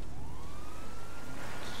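A rising, wailing siren sweeps upward over a loud, steady engine drone, a police car siren in a GTA game.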